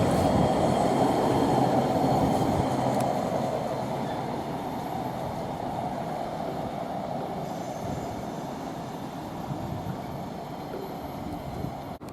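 A Class 390 electric train, unit 390046, running from Manchester Piccadilly to London Euston on the West Coast Main Line at Nuneaton, passes with a loud, steady rumble of wheels and rushing air that eases slightly over the passage.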